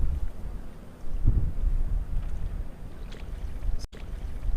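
Steady low rumbling wind noise buffets the microphone outdoors by Ada Hayden Lake in Ames, Iowa, with a brief dropout near the end.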